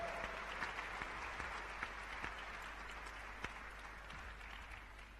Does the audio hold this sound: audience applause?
yes